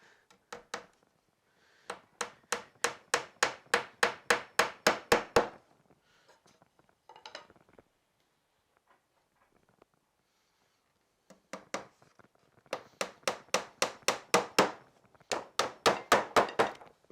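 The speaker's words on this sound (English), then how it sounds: "Make sure the nails go in fairly dead centre, and then just follow it around like that." Hammer driving 4-inch nails into a wooden beehive lift, two runs of rapid, evenly spaced sharp blows, each run speeding up, separated by a long quiet pause with a few faint knocks, close and fairly loud.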